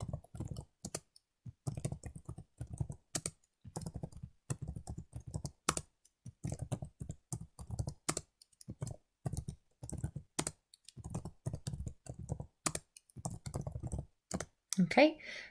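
Someone typing a list on a computer keyboard, fast bursts of close, crisp key clicks separated by short pauses, continuing steadily throughout with a faint voice briefly at the end.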